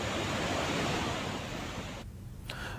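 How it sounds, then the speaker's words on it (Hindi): A swollen river rushes after heavy rain in Chhindwara, a steady broadband roar of churning water that fades slightly before a brief break near the end, with no voices. "तो बारिश के बाद नदी उफान पर नजर आ रही है"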